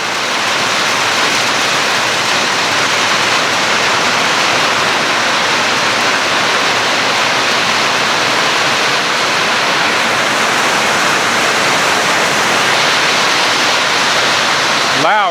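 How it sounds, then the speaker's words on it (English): Heavy rain pouring down on land being cleared, a loud, steady, dense hiss of downpour filling the whole stretch without letup. "Just made it back right as it started to pour."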